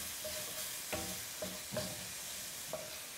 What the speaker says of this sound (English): we've been cooking the mushrooms for about 2 minutes, 2 to 3 minutes